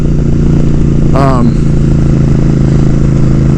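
A Suzuki Boulevard S83 1400cc cruiser motorcycle rumbles steadily while riding, a loud low engine drone throughout with a brief higher whine near the start, under someone talking.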